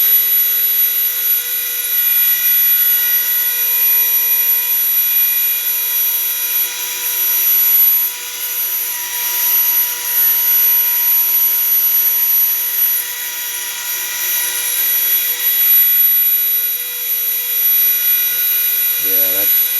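A 1/32 bit cuts a wavy purple heart and maple burl wood inlay, a steady high-pitched whine from the cutting tool that runs continuously with small dips, close and loud.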